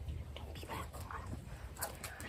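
A dog whimpers in short, thin whines and yips over a low, steady rumble, with murmured, voice-like sound in the background.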